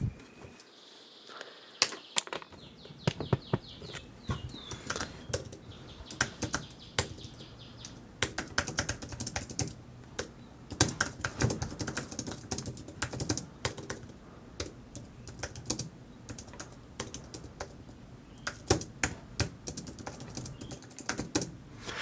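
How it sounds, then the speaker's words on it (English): Typing on an Apple Magic Keyboard 2 comes through as quick, light, close clicks in irregular bursts after a short quiet start, steady keystrokes with occasional louder taps and brief pauses. "So this is a first typing test on this thing."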